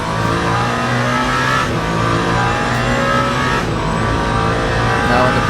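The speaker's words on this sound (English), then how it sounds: "As we are lifting and coasting here, before we come into the first chicane." Race car in Le Mans Ultimate lifting and coasting before a chicane, a loud steady engine drone with shifting pitch, easing off rather than revving hard.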